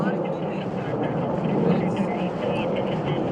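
A Rockwell B-1B Lancer bomber makes a low, slow pass with its wings extended at an airshow, a broad, loud jet roar holding steady throughout while an announcer talks over it.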